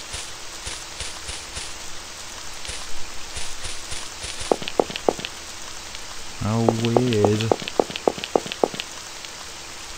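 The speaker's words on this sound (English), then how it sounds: "Unfortunately, it's raining today" Steady rain hiss falls throughout a night scene at a school in a horror video game, continuous and moderately loud, with footsteps and brief voice lines over it.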